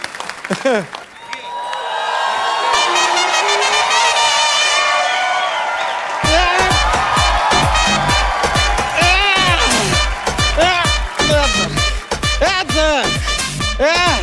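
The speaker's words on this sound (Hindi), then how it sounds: "जोरदार तालियां नरगिस के लिए" Loud applause and cheering from a television studio audience for Nargis on The Kapil Sharma Show, with a music-like swell at first, then sharp, rapid claps while voices talk over it.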